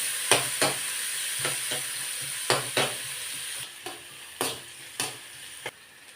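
Onion, green chili, ginger and tomato are stirred in hot oil in a pan, a continuous close sizzle broken by regular scraping strokes from a spoon.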